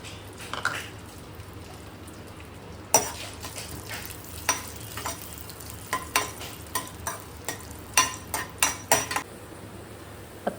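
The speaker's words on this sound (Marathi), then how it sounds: "इथे मी जे हे मिक्स ड्रायफ्रूट्स भाजून घेतले ते मी हलकेसे रोस्ट करून घेते" Mixed dry fruits being lightly roasted in ghee in a pan for a Malvani Konkan sweet, with a soft sizzle and a steady series of clear stirring scrapes and taps against the pan, close by and without talk.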